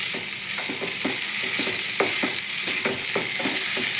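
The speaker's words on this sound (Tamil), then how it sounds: "நான் ஒரு கையிலேயே வதக்கிறனால வடச்சட்டி கிடுக்குன்னு ஆடுது ஃப்ரெண்ட்ஸ்" A kadai rattles and knocks in a steady rhythm as beetroot poriyal is stir-fried one-handed, the clatter sitting over a bright continuous sizzle from the pan.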